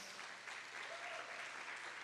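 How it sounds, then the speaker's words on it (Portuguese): A church congregation claps in welcome, a steady wash of applause that is faint and somewhat distant, with no voices standing out. "Uma salva de palmas a esses irmãos"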